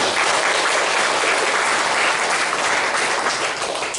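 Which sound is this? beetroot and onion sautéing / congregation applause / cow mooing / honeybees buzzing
congregation applause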